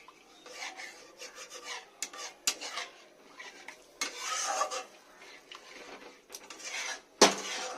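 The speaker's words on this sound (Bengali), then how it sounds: "চিংড়িটা একটু মাখা মাখা করবো" Prawns being stirred and coated in a pan with a little water, a spoon scraping and rubbing against the pan in uneven bursts, with a louder clank near the end; no talking.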